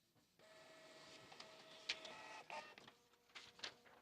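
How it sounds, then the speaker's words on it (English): Inkjet printer running out of ink, whirring steadily as it feeds paper and prints, with sharp mechanical clicks and carriage bursts throughout, close and fairly quiet. "I hear it printing."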